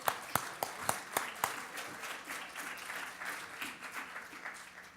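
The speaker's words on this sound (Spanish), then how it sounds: "Un aplauso." A church congregation breaks into applause, starting with several distinct sharp claps that build into a quieter, scattered round of clapping, faint and somewhat distant.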